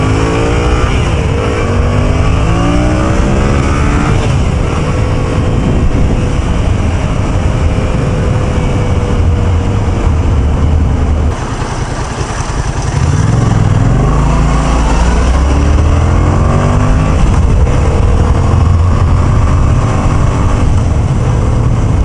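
A Yamaha FZ-07 (MT-07) motorcycle ridden through Los Angeles traffic, its engine loud and close with wind rush, repeated revving and gear changes rising and falling over the whole ride.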